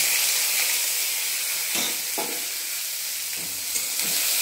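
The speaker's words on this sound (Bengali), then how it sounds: "পেঁয়াজটা আমি ভালো করে ভেজে নেব" Chopped onion fries in hot oil with whole spices for a Bengali jhol, giving a loud, continuous close sizzle. A few scraping stirs cut briefly through the hiss.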